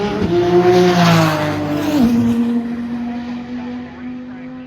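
Lamborghini Huracan and Nissan GTR race side by side at a World Cup Finals drag event, loud engine roar with rising and falling harmonic pitch sweeps and a gear-change drop near two seconds, over a commentator's voice.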